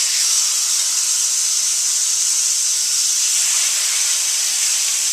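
Seasoned, oiled rib eye steaks sear in a pan over high heat, giving a loud, steady sizzling hiss that runs unbroken for the whole stretch with no talking.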